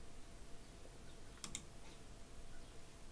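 A few soft mouse clicks in Thunderstore Mod Manager, faint and close, clustered around a single moment against quiet room noise.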